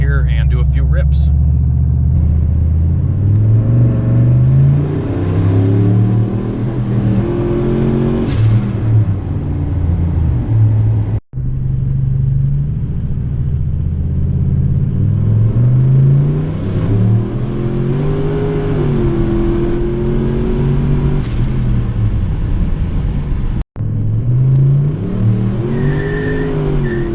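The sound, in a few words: turbocharged car accelerating hard on the street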